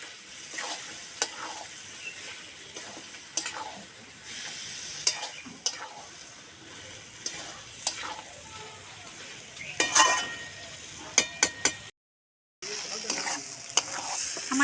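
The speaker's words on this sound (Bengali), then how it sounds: "মাংসটা আর আলুটা একসঙ্গে দিয়ে দেবো। এবার ভালো করে আমি কষিয়ে নেব।" Chicken and potatoes being sautéed (kosha) in a pan for a red chicken curry, a soft continuous sizzle broken by repeated spatula scrapes and taps, close and fairly quiet, with a brief dropout near the end.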